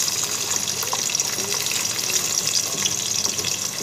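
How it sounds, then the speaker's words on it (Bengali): Chopped onions fry in a little oil in a wok for kabab biryani, giving a close, even, continuous sizzle with faint spatter and light stirring throughout. "পেঁয়াজ কুচিটা হালকা একটু বেরেস্তার মতো লাল লাল করে ভেজে নেব।"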